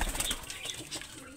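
Pigeons in a resting room flap their wings in a quick, close flurry of soft beating, brief and alone, with no talking.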